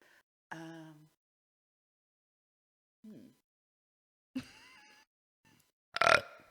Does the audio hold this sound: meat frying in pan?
no